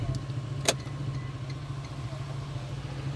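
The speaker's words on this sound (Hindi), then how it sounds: "और ये गाड़ी स्टार्ट।" A Toyota Land Cruiser LC300 engine idles with a steady low hum after starting, fairly quiet and even, with a brief sharp click near the start and no talk.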